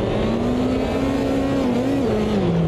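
Race car engine in Automobilista 2 drops down to fourth gear, a loud continuous drone with a steady pitch that dips toward the end, close and sustained without talk.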